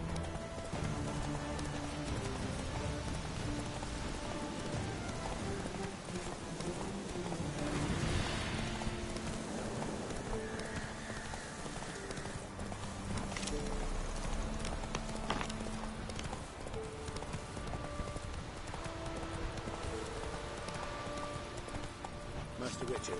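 Roach the horse gallops in The Witcher 3, with a steady rapid clip-clop of hooves running throughout alongside game ambience and some talk.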